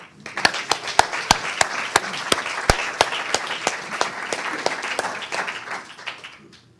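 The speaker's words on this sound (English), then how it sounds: "So please, a warm round of applause for Dr. Richard Dewey." An audience at a science talk night claps to welcome the speaker, with sharp individual claps standing out near the front over a steady crowd patter that fades toward the end.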